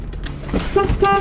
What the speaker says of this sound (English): Oh shit, sorry, I keep honking people.